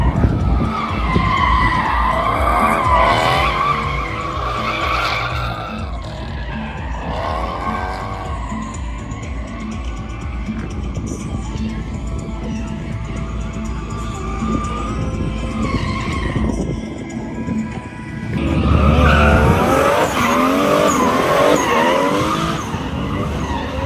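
A Toyota Mark X drifts on a track, its tires skidding and squealing almost continuously over the engine's roar. The sound is loud and close, dips briefly near the end, then surges again.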